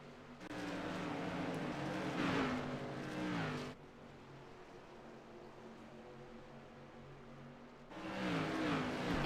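Modified race cars circling a short oval track, engines roaring loudly as a pack sweeps past, easing to a distant drone, then surging loud again as the field returns.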